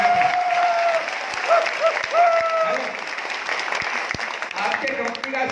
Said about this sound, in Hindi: थोड़ी और तेज तालियां बजा सकते हैं आप।